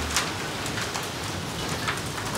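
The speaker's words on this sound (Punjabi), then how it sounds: "ਦੇਖ ਧਰਤੀ ਦੇ ਗੜੇ ਡਿਗਰੇ" Heavy hail falling onto the ground and wheat fields in a Punjab village, a dense steady patter of many small impacts, close and continuous, with no voices.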